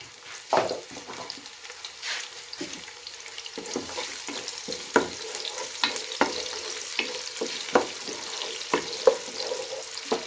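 Onions fry in a pan for a chicken and capsicum curry, giving a soft, steady sizzle broken by repeated scraping and clinking as a spoon stirs them up close.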